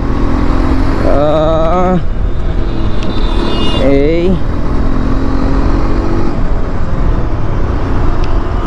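A Hero Xpulse 210 4V motorcycle revving hard in fourth gear toward 7000 rpm, heard as rising engine whines over heavy, steady wind roar during a ride, loud and close.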